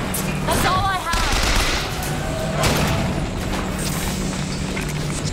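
Gunfire in BioShock Infinite: a few sharp shots and booms land amid a busy, loud game mix, with voices speaking over the action.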